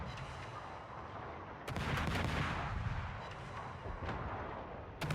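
Naval guns fire shells in World of Warships, heard as heavy booming salvos with rumbling tails over a constant background of engine and sea noise, with sharp blasts near the start and end.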